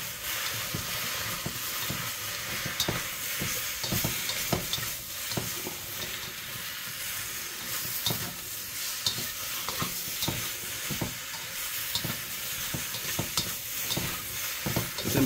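Bok choy with soy sauce being stir-fried in an electric pan, a constant loud sizzle broken by frequent rhythmic scraping and tossing strokes, close up, with no talking.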